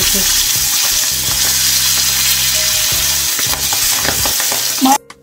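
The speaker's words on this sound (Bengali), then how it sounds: "এইভাবে সবকটা মাছ কিন্তু আমি ভেজে নেব" Tangra fish frying in oil in a wok: a loud, steady hiss and crackle of sizzling runs nearly the whole time, with scraping stirs and clinks, then cuts off abruptly near the end.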